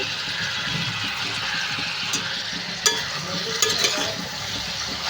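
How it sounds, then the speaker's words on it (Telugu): Chicken and onions fry in a pan for mango chicken, a continuous close sizzle with a few sharp clanks of a utensil stirring against the pan. "ఉల్లిపాయలు అయితే ఫ్రై అవుతున్నాయండి"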